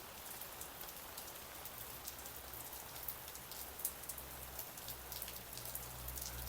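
Light rain falls outdoors on a walk, a faint, steady patter of drops on surfaces with no voices.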